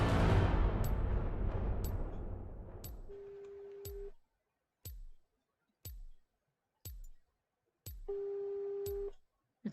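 A telephone call ringing out, repeated short tones in a regular pattern with brief gaps between them, heard clearly after a loud decaying burst at the start.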